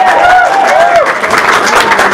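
A comics-shop crowd at a Star Wars Rebels panel breaks into loud applause, close and dense, with cheering voices and a whoop rising over the clapping.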